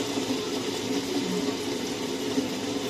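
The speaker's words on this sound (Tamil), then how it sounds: "தண்ணி ஊற்றிக்கிறேன்." Water pours into a wet grinder holding rice, giving a steady, close, continuous gushing and splashing wash that barely changes over its few seconds.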